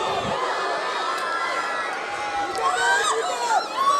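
A large crowd cheers and whoops continuously at a university centenary celebration, a loud, dense roar with scattered shrill shouts rising near the end.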